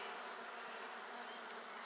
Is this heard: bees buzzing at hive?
yes